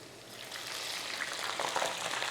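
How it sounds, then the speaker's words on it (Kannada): Ingredients roast in hot oil in a pan while mutton brain fry is being made, making a continuous close sizzle that grows slightly louder and more crackly toward the end, with no voice over it. "ಈಗ ಸ್ವಲ್ಪ ಆಯಿಲಲ್ಲಿ ರೋಸ್ಟ್ ಆಗಲಿ ಅದು ಹಸಿ ಘಾಟೆಲ್ಲ ಹೋಗಲಿ"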